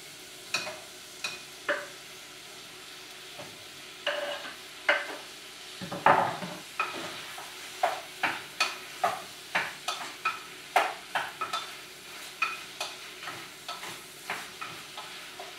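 Mushrooms sizzle gently in a pan of tomato pasta sauce while a spoon scrapes and stirs in repeated strokes, each stir a distinct clattering sweep over the soft frying hiss.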